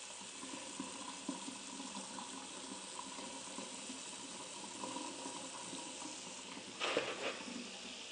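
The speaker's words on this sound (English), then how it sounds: "I'm just going to pop some hot water and some salt in there" Hot water is poured into a pot for pasta, a faint, steady stream of running liquid with a brief louder splash near the end, heard close and alone.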